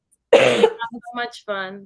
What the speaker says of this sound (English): No, it was a cough.